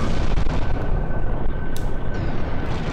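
Explosion in the Twisted Metal 4 vehicular combat game, a loud, dense rumbling blast that roars continuously for the whole stretch, with a few sharp crackling bursts near the end.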